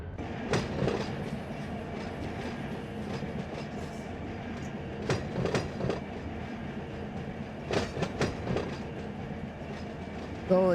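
Locomotive 3351 in the Run 8 train simulator, switching cars on the Los Angeles Junction Railway: a steady rolling rumble with repeated clanking wheel clacks and couplings, fairly quiet and with no talk.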